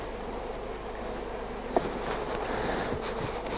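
Honeybees hum steadily in a top bar hive during an inspection, a soft continuous buzz with occasional louder passes near the comb and a faint knock partway through; no voices.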